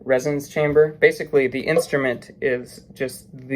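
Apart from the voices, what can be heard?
No everyday noises stand out.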